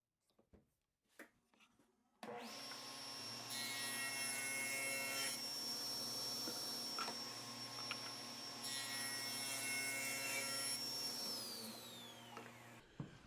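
A power saw rips wood boards lengthwise for a bike rack, starting abruptly and then running as a loud, steady whining drone with a sustained cutting tone for about ten seconds before winding down.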